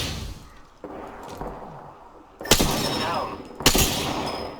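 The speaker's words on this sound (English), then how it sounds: "I am taking fire, friends." Gunfire in the battle royale game Apex Legends comes as two sharp, loud bursts of shots over a quieter background of distant action.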